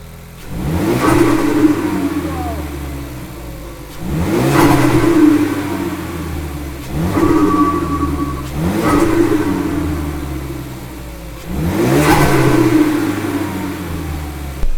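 A Ford Focus RS Mk3 engine revs repeatedly, four or five surging bursts each followed by a fluttering turbo compressor-surge chatter as the revs drop, loud and close.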